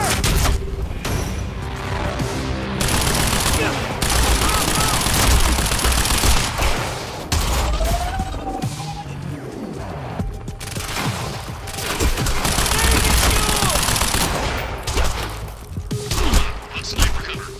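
Sustained gunfire from a video game firefight in Quantum Break against Monarch troopers: dense bursts and volleys of shots roll on throughout, loud and close, with talk mixed in.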